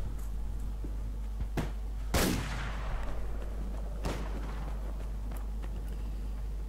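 Gunfire in the survival shooter Survarium, a few sharp shots spaced seconds apart over a steady ambient game background, with soft footstep-like scuffs between them.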